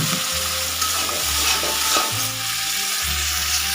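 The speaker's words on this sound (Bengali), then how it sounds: "মশলা কষানো হয়ে গেছে জল দিয়ে দিলাম" Water is poured into a pan of fried spice paste for a fish curry, setting off a loud, close, bubbling sizzle with intermittent low rumbling surges as it is stirred, and no voices.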